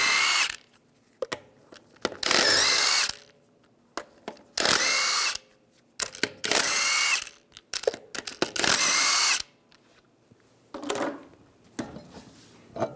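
An impact tool zips lug nuts off the front wheel of a 2011-2018 Ram 1500 using a 22mm socket, with loud, sharp whirring bursts of one to two seconds repeating between pauses, close by with no talk.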